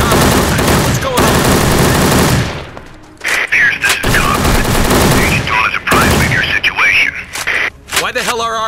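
Sustained automatic gunfire from friendly agents in the Secret Service PC video game roars for a few seconds, then breaks into shorter bursts mixed with voices and radio-like chatter.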